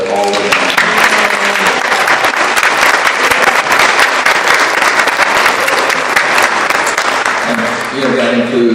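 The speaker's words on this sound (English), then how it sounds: "So a big round of applause to all of them." Loud, dense applause from an opening-event audience for volunteer staff, steady clapping for several seconds with a voice speaking briefly at the start and again at the end.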